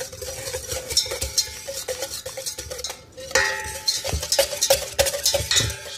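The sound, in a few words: beating the mixture until it turns pale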